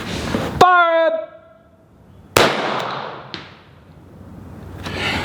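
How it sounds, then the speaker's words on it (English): A .22 LR rifle fires high-velocity rounds at a bowling ball outdoors: two sharp, loud cracks a couple of seconds apart, the first followed by a ringing metallic ping, then a fainter pop and a distant rumble. "Do 3 shots at that ball again."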